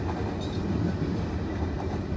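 A CSX mixed freight train led by locomotives 907 and 72, with a mid-train DPU, rolls past close by in Kingston, New York, a dense continuous rumble and rattle of cars with faint clickety-clack.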